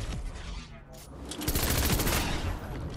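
Gunfire rattles out in the Fortnite video game, with a brief lull followed by a dense burst of rapid shots from the middle of the clip onward, loud and busy with other game sound mixed in.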